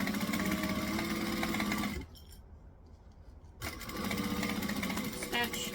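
A sewing machine stitching a bag lining runs in a steady fast whirr, stops for about a second and a half, then starts again for back stitching, close and clear, with someone talking over parts of it.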